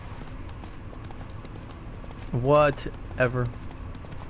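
Roach, a horse in The Witcher 3, trots with a steady, close clip-clop of hoofbeats running throughout, while a voice speaks briefly over it in two short bursts.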